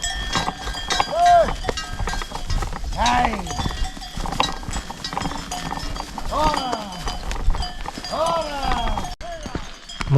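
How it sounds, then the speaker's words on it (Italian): A herd of cows passes on an alpine hiking trail near the Tolazzi refuge, with clattering cowbells, hooves and lowing close by as a herdsman shouts and curses among them. "Mucche con pastore bestemmiante."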